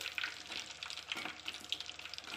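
Curry leaves drop into hot homemade ghee and fry with a faint, steady crackling sizzle and small popping bursts.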